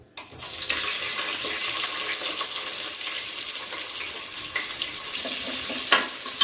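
Cardamom, cinnamon, cloves and onion frying in oil for biryani, a steady close sizzle that holds evenly throughout with a few faint stirring knocks.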